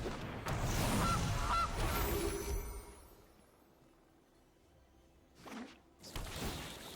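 Cartoonish goose honks from the Gilded Goose card in the MTG Arena digital card game ring out clearly alongside swooshing card effects, followed after a quiet stretch by further whooshes.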